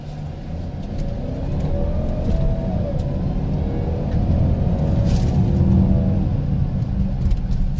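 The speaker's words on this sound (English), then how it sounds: "Let's see how this car accelerates from a stop." A 2017 Ford Edge accelerates from a stop in regular drive mode, its engine rumbling and revving steadily louder as it gathers speed, heard from inside the car with no talking.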